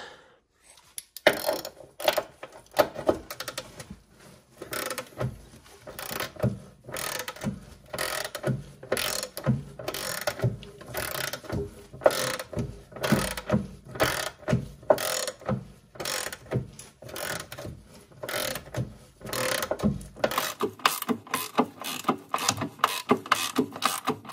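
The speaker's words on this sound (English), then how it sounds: "I'm just going to pull this whole bolt out instead." A ratchet wrench works a leaf spring shackle bolt loose on a vehicle, producing a long run of rapid, close clicking strokes in bursts, with brief pauses and a few metallic knocks.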